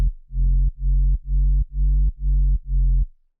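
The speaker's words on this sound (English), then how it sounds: "it's a pretty basic sine wave with some tube distortion and then a filter on top of it" A basic sub bass sine wave run through tube distortion and a low-pass filter, with pitch-bend automation, pulses six times in an even rhythm, each note sustained and deep, loud and alone.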